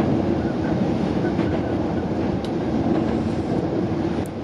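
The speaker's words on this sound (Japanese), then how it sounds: "この橋脚を渡る時のこのリズム感というか音が僕大好きなんでね" A Hankyu Senri Line train crosses a bridge over the Yodo River, a loud, dense rumble of wheels and carriage noise heard from on board, steady throughout with faint clicks.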